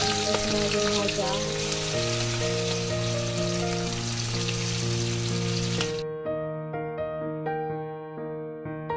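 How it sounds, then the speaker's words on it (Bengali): Hilsa fish pieces fry in hot oil, a dense steady sizzle with crackling that carries on without pause, close and fairly quiet. "মা বানাবে ঝোল, তো সেজন্য মাছগুলো এখন ভেজে নিচ্ছে।"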